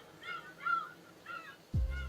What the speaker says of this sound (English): The seagulls are attacking.